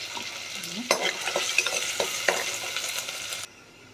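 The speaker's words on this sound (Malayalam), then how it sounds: "അപ്പോൾ എണ്ണ ചൂടായി നമുക്ക് ഇഞ്ചിയും വെളുത്തുള്ളി കറുവപ്പലയും എല്ലാം കൂടി ഇട്ടു" Ginger, garlic and cinnamon leaf fry in hot oil for a roasted-coconut chicken curry, giving a steady close sizzle broken by scattered stirring clacks before cutting off abruptly near the end.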